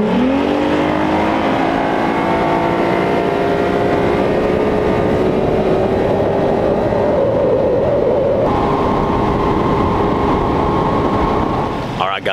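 A loud, steady fishing boat motor drones at close range, holding a low idle hum with a slight rise in pitch partway through.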